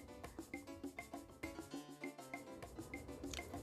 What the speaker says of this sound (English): I will rub the salt all over the fish to make sure each piece is well coated with the salt.